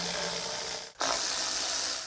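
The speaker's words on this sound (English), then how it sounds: "Next, we want to pull off our cover. 10 millimeter bolts plus a T30." A hand ratchet works on the 10 mm bolts of a 2004-2009 Toyota Prius inverter cover, sounding as a dense, close, loud ratcheting buzz with one brief pause about halfway through.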